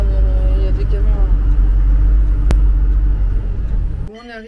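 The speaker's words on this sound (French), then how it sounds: "bah tiens regarde, il y a des camions là" Road vehicles and trucks in a Turkish industrial district rumble loudly and close by with a low, continuous engine drone and a sharp click midway, while a person talks over it near the end.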